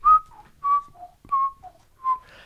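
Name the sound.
person whistling, imitating a chicken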